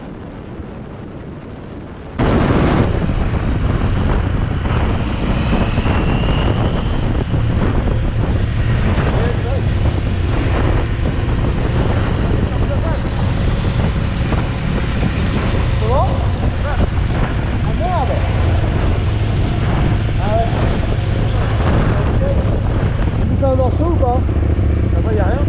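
A KTM 890 Adventure R motorcycle at high speed on a road in Morocco, a loud continuous engine roar heavily buffeted by wind noise across the microphone after a brief quieter start.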